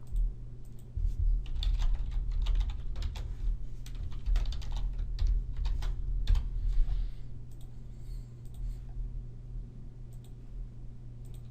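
Steady typing on a computer keyboard, close and continuous clicking keystrokes over a low hum, slowing and thinning out toward the end, with no voices.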